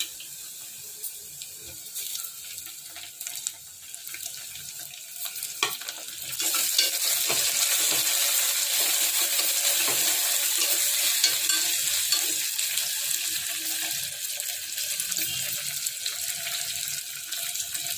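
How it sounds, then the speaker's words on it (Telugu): Onions and mint sizzling and frying in a pan for Telangana-style spicy mutton liver, quiet crackle at first, then a loud steady hiss once the mint goes in, with occasional stirring clatter. "ఉల్లిగడ్డలు ఎర్రగైనాయి. ఇప్పుడు పుదీనా వేసుకోవాలి."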